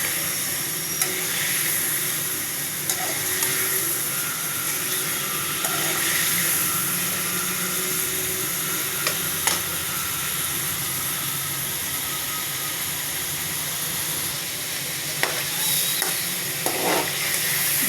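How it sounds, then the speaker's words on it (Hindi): Chicken fries with garlic and ginger paste in a continuous, even sizzle and hiss, broken by a few faint stirring clinks, with no one speaking. "अब इसमें लहसुन और अदरक का पेस्ट डाल के भून लें"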